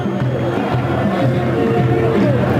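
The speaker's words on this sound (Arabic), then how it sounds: "هتافات جماهير النادي الاهلي" Al Ahly football fans chanting in a stadium, a loud, sustained mass of voices in rhythmic song filling the space, heard from within the crowd without pause.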